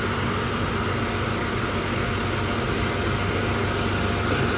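A Mitsubishi Pajero 4x4 engine, hot after driving, idles with a steady, continuous mechanical hum and broadband rumble, close and even in level throughout.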